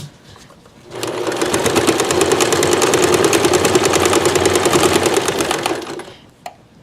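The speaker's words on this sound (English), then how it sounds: "we're going to start sewing on the outside of our blue block" A sewing machine stitches a decorative block onto a towel, running in one continuous fast whirring burst of about five seconds, close and loud, then stopping with a small click.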